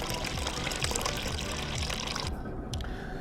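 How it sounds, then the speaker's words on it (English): Pizza sauce is poured onto bread in a kitchen, making a continuous wet, slurping pour with a drier, quieter stretch near the end. "So let's pour some of that sauce on this bread."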